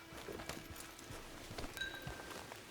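Faint horse hoofbeats clip-clop in an uneven walking rhythm over a soft background hiss, with no voices, in the video game Red Dead Redemption 2 Online.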